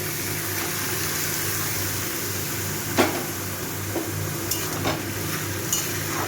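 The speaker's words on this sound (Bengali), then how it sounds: "থোড়টাকে ভালো করে একটুখানি এই ছোলার সাথে ভালো করে মিশিয়ে নেব।" Banana stem being stirred together with fried chickpeas in a pan for a vegetarian Bengali dish, with a steady sizzle throughout and a few sharp spoon scrapes and knocks against the pan. No one speaks.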